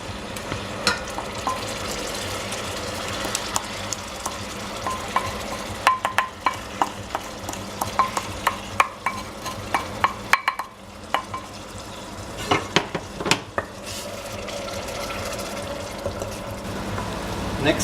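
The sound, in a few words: onions, ginger and garlic frying in melted butter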